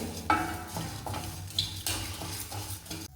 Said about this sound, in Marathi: आता आपल्याला 20 ग्रॅम हे जिरं घालून घ्यायचं आहे. हे पण छान आपल्याला असं भाजून घ्यायचं आहे.